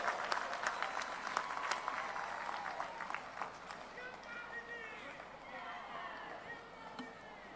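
Crowd applause welcoming Priyanka Gandhi at a political rally in Bastar, a dense, sustained clatter of clapping from a large gathering that stays steady throughout, with voices mixed in underneath.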